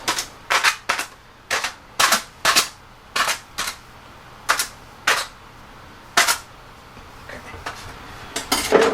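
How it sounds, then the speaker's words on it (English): Aluminum foil laid over pork for smoked pulled pork is poked full of holes, making around twenty quick, crisp puncturing taps in an uneven rhythm, close and clear with no talking. "poke a bunch of holes in the top of the foil"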